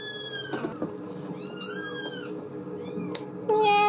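A cat meows and cries indoors, several short rising calls close to the mic over a steady hum, ending with a louder sustained tone.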